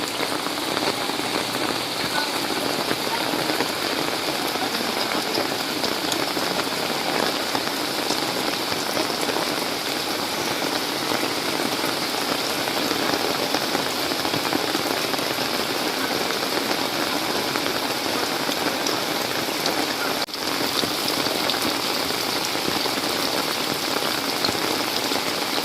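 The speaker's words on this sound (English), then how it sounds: "Oh yeah, now we're getting the hard rain." Hard rain pours down in the Philippines during the rainy season: a steady, dense, unbroken hiss of heavy drops hitting surfaces close by, with no voices.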